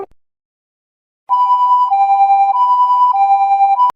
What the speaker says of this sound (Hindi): एम्बुलेंस आ चुका है